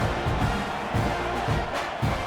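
A stadium crowd in the video game EA College Football 26 produces a dense, steady roar with rhythmic swells during a Mississippi State at Texas A&M game, loud and continuous throughout.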